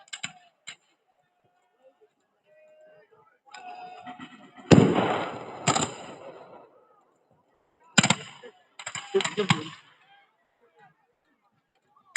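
Musket volleys at a Civil War battle reenactment of the Battle of Olustee, heard as loud, sharp bursts of fire in two clusters, with faint background voices and quieter stretches between.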